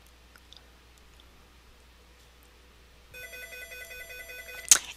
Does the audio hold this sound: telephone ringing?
yes